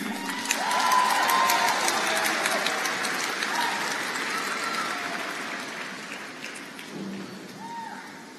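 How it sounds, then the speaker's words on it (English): A conference audience at an opening plenary claps loudly for the technical support team, dense sustained applause with some cheering that slowly fades over several seconds. "Let's give a round of applause for our tech team."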